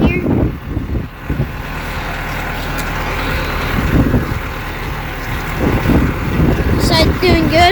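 A tractor in third gear rolls along a field while laying plastic mulch, its low engine drone running steadily for the whole stretch, with wind buffeting the microphone and a brief higher squeak near the end.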